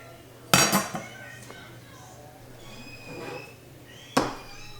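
Glass canning jar and metal funnel clinking on a kitchen counter while pork is packed into a pint jar, two sharp clinks separated by quieter handling scrapes and a soft rattle.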